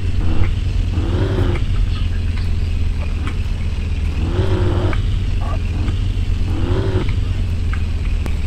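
A car engine idles and revs gently in the car-dealing game Car for Sale during slow parking, a steady low drone with periodic whining rises in pitch, with no voices.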